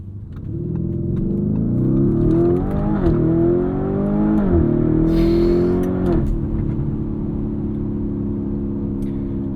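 A 2023 Lamborghini Urus S twin-turbo V8 SUV drives at speed, its engine droning loud and steady with several gear-change dips and rises, tire and road noise filling in underneath.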